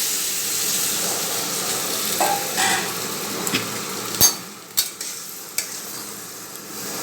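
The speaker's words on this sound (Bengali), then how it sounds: "এই মুহূর্তে আমি ওই মশলাটা যেটা রেডি করে রেখেছিলাম, জিরে গুঁড়ো, হলুদ, লবণ" Ground cumin, turmeric and salt frying in a pan give a soft sizzle at first, then give way to several sharp spatula taps and knocks against the pan, close by and without speech.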